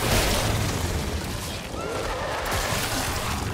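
An alt-fire weapon blast in The Callisto Protocol, a loud, close, roaring burst that fills the whole moment and holds at a steady, heavy level.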